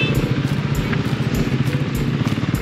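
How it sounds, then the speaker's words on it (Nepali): Motorcycles, including superbikes, riding slowly through mud, with a loud, steady engine drone and rhythmic throttle pulses close by and no talking. "हाम्रो धोएको बाइकलाई चाहिँ नि हिलोमा हालेर चाहिँ हिँडिरहेका छौँ"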